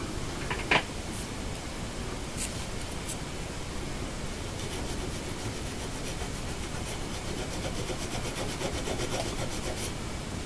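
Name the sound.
sanding guitar frets with fret erasers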